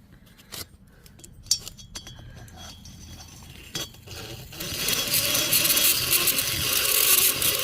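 Rotary cutter bit porting the cylinder of a Stihl MS460 chainsaw: sparse metallic scraping and clicking ticks at first, then a steady, louder high grinding whir that fills the second half.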